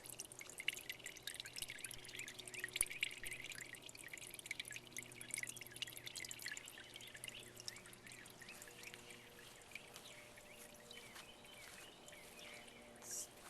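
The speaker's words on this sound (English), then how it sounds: "It's always dripping water. In fact, you can maybe hear the water." Water dripping and trickling from a hole in a wet hillside, a faint outdoor patter of drops with soft running water and a few birds in the background.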